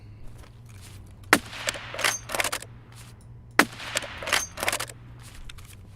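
Remington M700 sniper rifle fitted with a Wave silencer fires in a video game: two sharp, muffled shots a couple of seconds apart, each followed by quieter mechanical clatter over a low steady hum.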